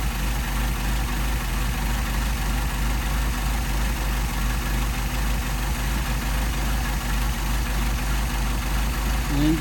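A car engine with a Solex carburetor idles steadily in a low, continuous rumble while its mixture screw is adjusted, and the engine speed drops slightly over the stretch.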